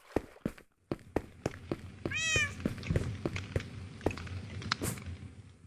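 A cat meows once, clear and close, in a Minecraft-style survival game, set among steady footstep thuds and soft background ambience.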